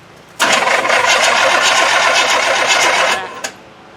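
A 1973 Chevy K-5 Blazer with a 307 V8 cranks and fires, then roars loudly at a rough, fast idle for about three seconds before abruptly dropping off, with a brief final burst.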